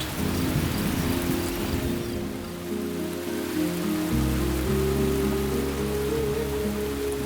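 A thunderstorm on the African savanna brings heavy rain and deep, continuous rolling thunder that swells loudly in the second half.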